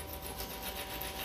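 Two stones grind against each other in a continuous abrasion demonstration, producing a close, steady, gritty scraping with gentle rhythmic swells from the back-and-forth rubbing.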